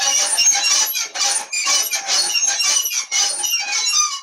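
A spinning globe squeaks in a rapid, continuous run of high, scratchy squeals, repeating in bursts with brief gaps, loud and close with no talk over it.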